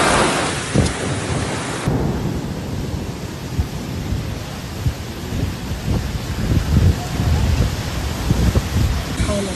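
A severe storm with thunder and hail batters the area around Yanbu province in Saudi Arabia: heavy rumbling thunder and a dense, steady roar of rain and hail pounding surfaces close by, with faint voices beneath it.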